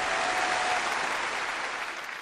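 Audience applause at a Suzhou Pingtan storytelling performance during a Spring Festival show, a full, continuous patter of clapping that fades slightly toward the end.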